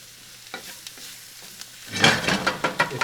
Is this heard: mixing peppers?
yes